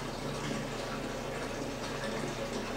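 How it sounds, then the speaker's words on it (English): Water drains steadily through a DIY EZ-T siphon pipe in an aquaponic flood-and-drain grow bed as a solid one-inch column, a constant close rushing gurgle with no pauses. "that's a solid column of 1 inch water flow. So that'll drain pretty quick."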